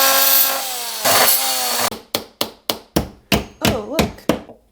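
Wood trim being sawn for kitchen shelving, first two long, loud continuous cuts, then a run of about ten short, sharp rhythmic strokes, close and alone.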